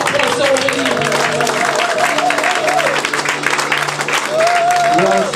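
A church congregation claps and cheers for a sister at a service. Applause runs continuously under a loud amplified voice and music.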